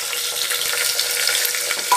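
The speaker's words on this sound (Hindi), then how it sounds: "इसमें हम लोग गरम मसाले डाल के चटकने लगा है" Whole garam masala spices crackle and sizzle in hot oil for a tadka while making Punjabi jackfruit curry, a steady close frying hiss with small pops.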